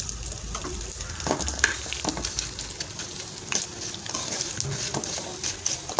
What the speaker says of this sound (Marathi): एकदा मसाले टाकले थोडेसे भाजले की लगेच गॅस बंद करायचा